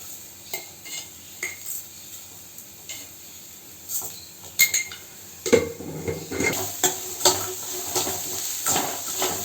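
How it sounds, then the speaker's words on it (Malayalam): A utensil scrapes and clinks against a pan while grated coconut and sugar are stirred over heat, giving irregular metallic taps and scrapes. A faint sizzle sits underneath, and the stirring grows busier and louder toward the end. "തേങ്ങയും പഞ്ചസാരയും കൂടി നല്ലോണം വിളയിച്ചെടുക്കാം."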